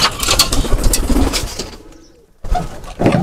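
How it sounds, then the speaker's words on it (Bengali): A pigeon coos at the exit of a pigeon loft, close and fairly loud, a run of throaty calls that breaks into a short near-silent pause before resuming. "এই যে কবুতরটা অবশ্যই এদিক দিয়ে বেরোবে"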